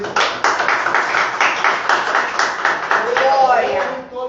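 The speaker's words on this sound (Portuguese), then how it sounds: "Vamos dar salve de palmas para Jesus Cristo." Congregation in a Brazilian Apostolic church clapping together in praise, a steady, fairly loud patter of hands with voices rising over the clapping toward the end.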